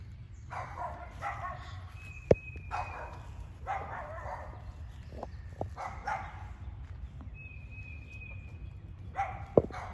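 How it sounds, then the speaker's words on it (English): Small dogs bark off and on at a distance at chickens, short yappy bursts over a steady outdoor background in a garden, with a few sharp knocks close by. "My neighbor's little dogs over there decided to they bark at the chickens every day."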